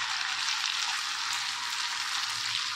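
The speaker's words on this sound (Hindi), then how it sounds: "तो बस इसको बस मैं 1 मिनट और भून लेती हूँ, फिर डालती हूँ।" Onions or vegetables frying in a pan while a chaat-style dish is made, giving a steady, dense, close sizzle with no gaps, even in level throughout and with no talking.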